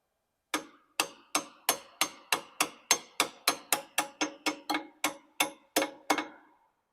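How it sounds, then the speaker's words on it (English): A hammer tapping a part out on a Royal Enfield Bullet 500 motorcycle, about sixteen sharp metallic strikes in a steady, even rhythm, close and clear with quiet gaps between, no voices. "I have the lift supporting just a little bit of the weight so I can carefully tap this out."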